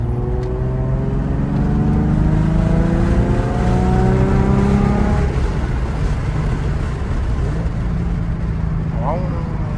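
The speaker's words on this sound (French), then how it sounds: "Le bruit moteur est pas omniprésent, mais tu l'entends." A Nissan 350Z engine hums steadily from inside the cabin while driving, a moderate continuous drone with rising and falling tones, with people talking over it.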